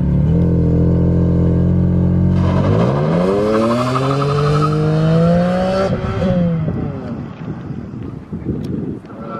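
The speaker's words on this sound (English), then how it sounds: "Getting that launch control ready." VW MK7 Golf R with blown struts launching hard at a Roswell autocross event: idling engine, then a loud close rising rev sweep through gears with harmonic climb, a shift dip near six seconds, and wind rush continuing.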